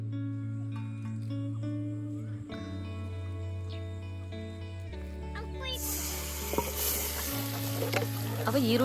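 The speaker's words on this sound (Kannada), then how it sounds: "ಇವಾಗ ಕಾದಿತ್ತಲ್ಲ ಎಣ್ಣೆ, ಅದಕ್ಕೆ ಆಡ್ಸ್ಕೊಂಡು ಬಂದಿದ್ದಂತ ಮಸಾಲೆನ ಹಾಕ್ತಾ ಇದೀವಿ" Ground masala being added to hot oil and frying, a steady sizzle and hiss under a sustained tonal hum, growing brighter and louder toward the end.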